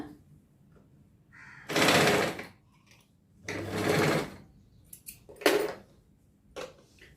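A sewing machine stitches puff sleeves in close, loud bursts: two long runs of rapid whirring stitches, then shorter spurts with quiet pauses between.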